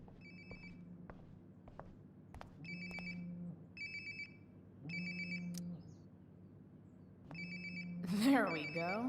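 Phone ringtone in Life is Strange: Before the Storm, several short bright electronic ring bursts repeating at a steady rhythm, heard at moderate distance amid a low ambient hum, with a louder shuffle of handling near the end.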